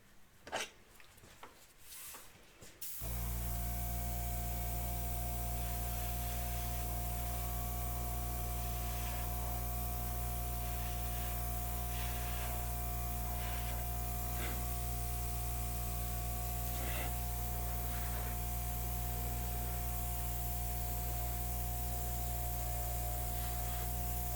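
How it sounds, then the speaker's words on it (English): An airbrush feathers out tiny spots, starting after a few quiet seconds and then holding a steady, loud, airy hiss with a faint hum beneath for the rest of the stretch. "I'm going to take my airbrush and I'm going to hit these little teeny spots just to feather it out a little bit"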